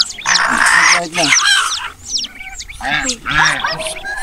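A mother hen clucks in repeated soft bursts close by, with people talking over and between the calls.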